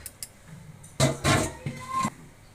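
Washed rice and lentils tipped into a pot of vegetable khichuri, a short series of clattering, scraping metal knocks and a soft pouring rush, close by in a home kitchen.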